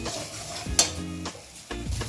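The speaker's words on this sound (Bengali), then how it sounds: "6-7 মিনিট ধরে মশলাটা ভালো করে কষে নিতে হবে।" Masala spices stir-fried in a pan over a high gas flame, giving soft sizzling with a few scraping stirs of a spatula, close and moderately quiet.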